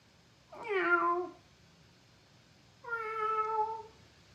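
A cat meows twice, close and fairly quiet, with each call lasting under a second and a gap of about a second and a half between them, over a soft steady background hum.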